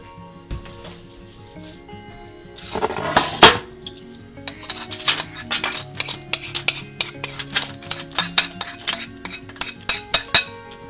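A metal baking tray for roasting pumpkin seeds clanks and clinks as it is handled in a home kitchen, with one loud rattle followed by a steady run of sharp metallic taps and knocks, close and clear with no talk.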